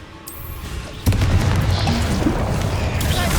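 Spell explosions in Hogwarts Legacy: quiet ambience, then a sudden loud booming blast that rolls into continued crackling impacts and further pops, with no voices.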